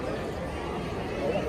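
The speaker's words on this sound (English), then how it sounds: "Sounds like they're hyping the crowd up." Crowd at Disneyland cheering while cast members hype them up, a dense continuous roar of many voices and shouts, loud and unbroken over a short stretch.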